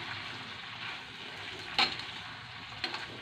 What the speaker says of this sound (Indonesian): Terinya digoreng dulu